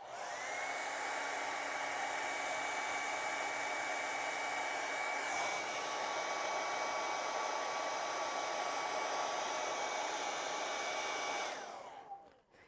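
A hair dryer blows steadily and loudly at close range over wet acrylic paint on a winter chickadee painting, a constant whine lasting about twelve seconds before it switches off and winds down.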